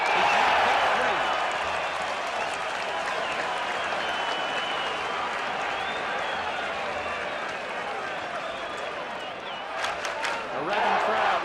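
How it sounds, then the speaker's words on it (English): Football crowd at a 1980 VFL match between St Kilda and Essendon, a dense roar of cheering and clapping from a large stadium audience, sustained throughout with a brief swell near the end. "A rabid crowd really cheering St Kilda on"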